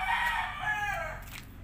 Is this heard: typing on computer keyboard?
no